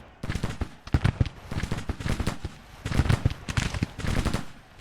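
Musket volleys crackle in the Civil War strategy game Grand Tactician, with dense, irregular bursts of rapid gunfire that swell and ebb continuously at a moderate distance.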